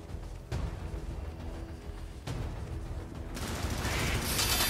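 Gunfire erupts in the video game Helldivers, with two sharp shots followed by a growing, dense rumble of rapid fire and explosions that swells toward the end.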